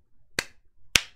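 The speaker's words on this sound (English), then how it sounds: "Am I clapping louder now?" Two sharp hand claps about half a second apart, close and fairly loud, each with a quick bright decay, in a quiet room with no talking.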